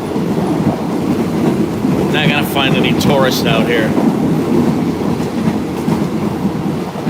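Train rolling along as heard from inside a cattle car, a loud continuous rumble and rattle with wind buffeting, while a person talks briefly over it in the middle.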